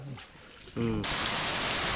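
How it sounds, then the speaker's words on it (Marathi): Heavy rain pours down over a Konkan creek in a loud, steady broadband roar, rising abruptly after a brief quieter stretch with faint voices at the start. "पाऊस एकदम जोरात आलेला आहे"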